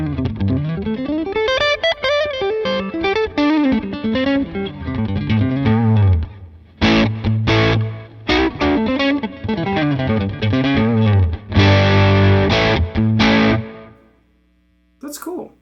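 A guitar runs through an amp model on a Line 6 Helix with firmware 3.60, giving a loud, driven, distorted tone. Riffs and chugging chords play in bursts with short gaps, and the sound trails off near the end.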